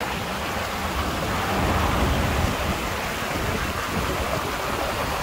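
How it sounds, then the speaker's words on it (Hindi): Heavy rushing water pours down a rain-fed waterfall after a downpour near Madinah, a steady loud broadband roar that swells slightly midway and continues without a break or voices. "पूरी आबशार बनी हुई है, बहुत तेज़ी से पानी आ रहा है इस तरफ"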